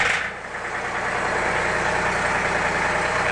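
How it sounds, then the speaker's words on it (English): Loud, steady engine rumble of a tractor running close by, continuous throughout with no voices. "Tractor's kind of loud."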